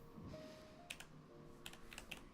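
Quiet clicks from an old computer keyboard that sometimes double-presses its T key, coming in short irregular bursts of keystrokes with no voices.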